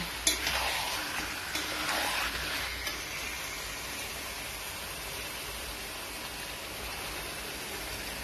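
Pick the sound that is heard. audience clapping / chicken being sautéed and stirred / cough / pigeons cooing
chicken being sautéed and stirred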